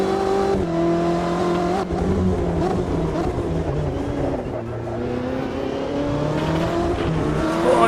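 A Corvette GTE race car in the Automobilista 2 racing sim, its engine loud and continuous, rising and falling with steady revving and upshifts throughout, no talk over it.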